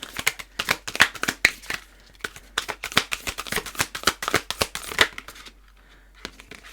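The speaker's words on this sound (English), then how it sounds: "The only problem with really good card stock is it's actually quite difficult to shuffle the way that I do with it." Stiff tarot cards of heavy stock riffle and slap together in quick, uneven bursts of crisp clicks, close and fairly quiet, pausing briefly before the shuffling resumes.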